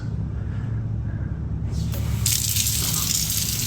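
Water runs from a tap in a steady, fairly loud gush, the flow changing partway through and growing brighter and stronger toward the end.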